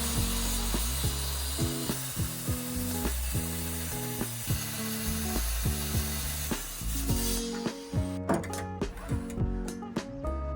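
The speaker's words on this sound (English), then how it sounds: "I'm using a digital angle finder to adjust my circular saw to 45 degrees" Circular saw set to 45 degrees making a mitre cut in feather edge timber: a loud, continuous whine and rasp running throughout with rhythmic pulsing, easing toward the end into a series of clicking knocks.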